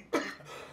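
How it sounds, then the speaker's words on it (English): A man coughs once, sharp and close, at an indoor cannabis grow-house press day, followed by a brief raspy trailing breath. "Get him coughing."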